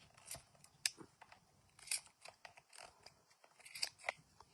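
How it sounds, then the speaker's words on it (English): Scissors snip through excess material on a Halloween stash-can craft, a series of small crisp clicks and cuts, close and quiet, in irregular bursts. "Let me just cut this excess right"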